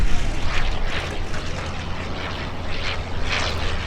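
Engine of a Fokker Dr.I triplane or D.VII First World War fighter flying at the Sywell airshow, a loud steady droning roar with gentle swells in intensity, heard alone.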